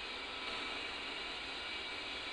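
Jet engines of an A-10C in the DCS flight simulator drone steadily with a constant high whine over a broad, even roar, unbroken for the whole stretch and with no talking.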